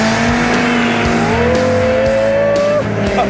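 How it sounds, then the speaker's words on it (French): A Dodge Viper spins its wheels on a wet track during a standing start, its loud engine roaring and rising through the revs while the tires squeal and slip continuously, close up. "Ça roule pas droit du tout, ça patine très très fort."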